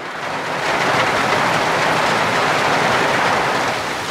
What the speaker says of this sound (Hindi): अरे तेज होती जा रही बारिश